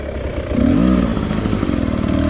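Modified 2002 Kawasaki KX250 two-stroke dirt bike set up for woods riding, with a big bore kit and hydraulic clutch, running steadily close by, its engine note rising slightly and holding a rough, clattering idle-to-rev tone.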